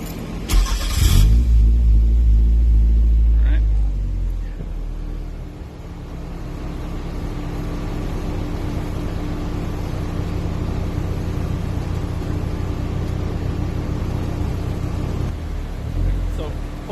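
A Toyota MR2 turbo engine running on its stock ECU roars through a hard rev near the start, then settles into a steady loud drone that lasts to the end, with a voice speaking early on.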